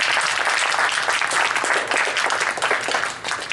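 An audience claps in loud, steady applause, a dense wash of hands that dips briefly near the end before swelling again.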